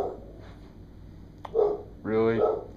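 A dog barks nearby indoors: a short yip followed by a louder, longer bark, with some human speech mixed in.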